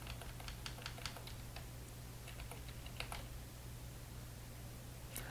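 Computer keys are pressed in scattered, quick clicks with short bursts and pauses while someone plays a roguelike game. The taps are faint and close, with a low steady hum beneath and no talking.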